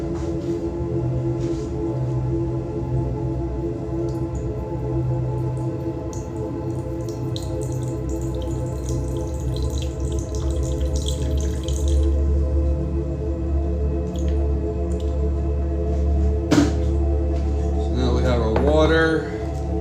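Tap water runs and drips into a container while measuring water for strawberry gelatin gummy bears, a steady close trickle over a low kitchen hum, with a brief clatter near the end.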